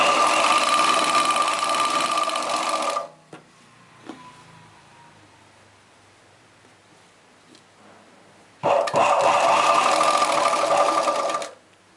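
An electric sewing machine stitches a chudidar pant in two fast, steady runs of about three seconds each. A quiet pause with faint handling clicks falls between them, and the machine whirs loudly and close.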